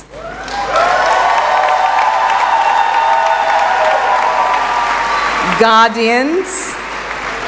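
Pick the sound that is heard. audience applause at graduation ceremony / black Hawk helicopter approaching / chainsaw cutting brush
audience applause at graduation ceremony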